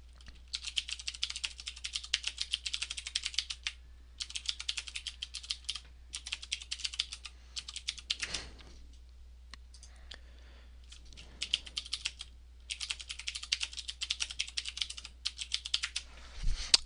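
Fast bursts of typing on a computer keyboard, entering a password before logging into StarCraft, come in several clicky runs separated by short pauses, close and fairly loud, with no talking.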